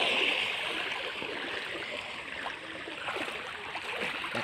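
Floodwater rushing through the village of Tahala in Kolaghat block, a steady broadband roar of flowing water like a stream, constant and fairly close throughout with no break.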